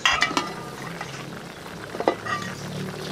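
Chayote added to meat cooking in a pot, then covered with a lid, gives a soft simmering sizzle with a few sharp clinks and clatters of a utensil and lid, moderately close, no talking.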